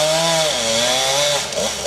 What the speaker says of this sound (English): He's up there with a chainsaw on that roof.